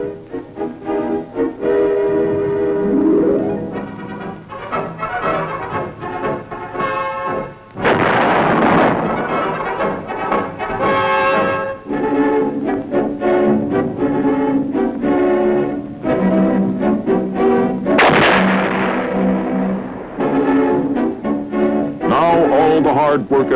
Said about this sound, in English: when the big guns go into action, providing support for the men in the field